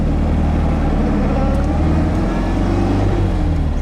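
A 1960 MGA Coupe engine running as the car drives off, a loud, steady low rumble that rises gently in pitch as it accelerates.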